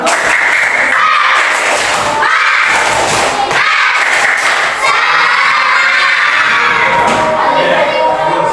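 Children in a fourth-grade classroom perform a rhythmic clapping icebreaker, loud and close. Patterned bursts of claps mix with shouting and chanting voices in a lively crowd.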